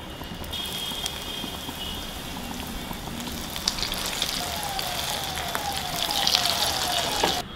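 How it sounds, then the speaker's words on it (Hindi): Potato donuts bubbling as they deep-fry in hot oil, with a continuous crackling sizzle that swells slightly toward the end and no talking. "इसी तरीके से हम बाकी के डोनट्स फ्राई कर लेंगे"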